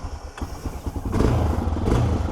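A 2025 Honda XR650L single-cylinder dual-sport motorcycle rides at an easy commuting pace; the engine thumps steadily, then swells louder partway through as it picks up speed, with no talking.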